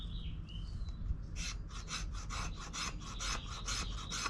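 A kukri knife shaves curls from a piece of fatwood, producing a quick series of short, rhythmic rasping strokes up close, with no talking and only faint birdsong in the quiet background.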